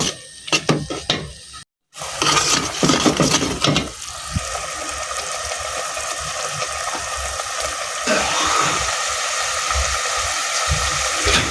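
Spices of turmeric, chili powder and salt sizzle with hilsa fish in a pan, a steady close hiss of frying with clattering stirring at the start and a brief gap before the sizzle settles in.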